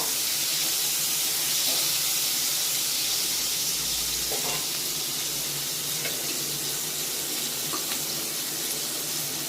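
Green chillies and tomato fry in hot oil for a Bengali vegetarian brinjal dish: a dense, even hiss that stays loud and unbroken throughout.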